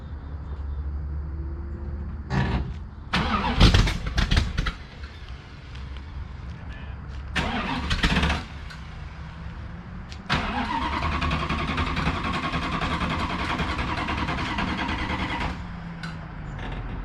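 An old Dodge car engine running roughly at steady idle, close by, with a loud uneven rumble broken by several bursts of revving and clanking.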